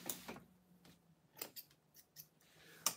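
Scissors trimming fabric during sewing, several quiet, close, crisp snips spaced irregularly over a near-silent background.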